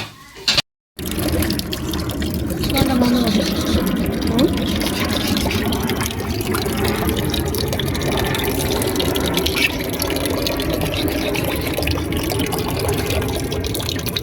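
Tap water running steadily while fish is washed, a continuous close gushing and splashing that lasts throughout after a brief break near the start, with voices talking faintly underneath.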